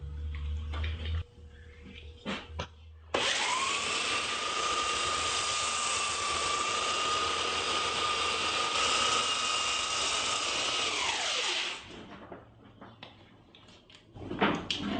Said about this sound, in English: I'm using a 4-inch wide belt sander with 80 grit sandpaper.